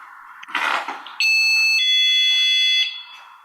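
Some rustling and movement noise comes first, then a motion detector alarm bursts into a loud, piercing, steady electronic tone, held for over a second before cutting off.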